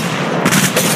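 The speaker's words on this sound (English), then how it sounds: "Listen up, I'm getting shot at." Rapid gunfire from a mobile battle-royale shooter, Apex Legends Mobile, cracks out in a short loud burst of shots without talk.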